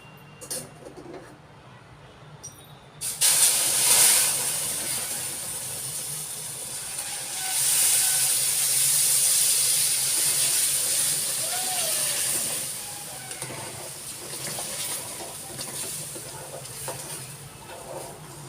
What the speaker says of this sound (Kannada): ಈ ಸಂದರ್ಭದಲ್ಲಿ ನಾವು ಕುದಿಯೋ ನೀರನ್ನು ಸೇರಿಸೋಣ.